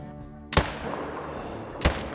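Two loud rifle shots fired at a tahr in the hunting game theHunter: Call of the Wild, each a sharp close crack with a rolling echo, about a second and a quarter apart.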